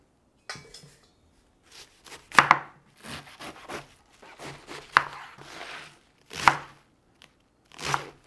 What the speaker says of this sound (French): On coupe les ingrédients.